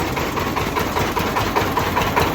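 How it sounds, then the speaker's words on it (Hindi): A motorcycle engine idles steadily at close range, a continuous low rumble with a faint regular pulsing and no talk over it, recorded on an Indian roadside stop. "बाइक ही चलाने वाला है।"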